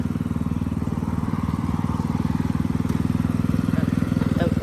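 A riding lawn mower engine runs loudly close by with a fast, steady pulsing rhythm that rises slightly as it is revved.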